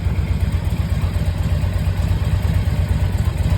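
A 2006 Harley-Davidson Ultra Classic Electra Glide motorcycle idles close by, its engine giving a deep, steady, lumpy low rumble that continues evenly throughout with no voices.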